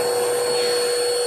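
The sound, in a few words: vacuum cleaner vacuuming a cat's fur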